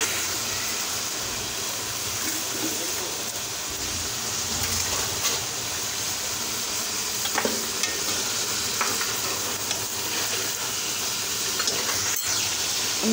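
Tomatoes and green chillies sizzle in hot oil while a spoon stirs them for a makhan chicken, a steady frying hiss with scraping and clinks throughout, close and fairly loud.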